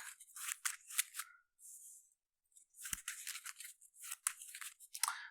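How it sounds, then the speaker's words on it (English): A deck of game cards is shuffled by hand: quiet, crisp papery riffling bursts come in quick clusters, broken by a short silent pause midway. "Shuffling her deck."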